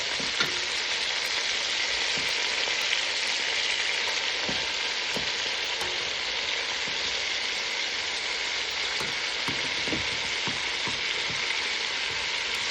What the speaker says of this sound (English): So what we're doing here is browning the each side, locking all that flavor